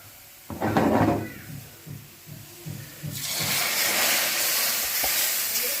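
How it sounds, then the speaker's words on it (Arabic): Golden-fried garlic is poured onto a dish, setting off a loud, steady sizzle that bursts in and holds to the end after a few softer clinks and stirring sounds. "وهنا التومه كده دخلت على اللون الذهبي خلاص اهي، هطشها بقى"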